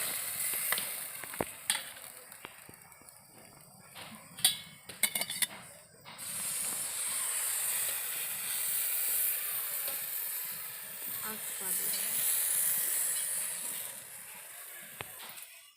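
Eggplant slices drop into a little oil in a wok and sizzle, starting with sharp crackles and spatters, then settling into a steady hiss that swells and lingers, close and fairly quiet, with no talk.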